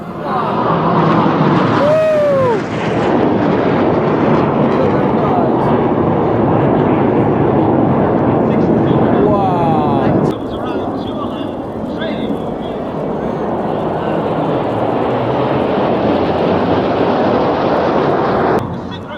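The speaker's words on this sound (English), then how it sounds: "left and right, synchro pair, watch this" A synchro pair of aerobatic display aircraft flies over at a UK Armed Forces Day event, producing a loud, sustained roaring engine rush that swells and shifts pitch as the pair passes, while spectators talk over it.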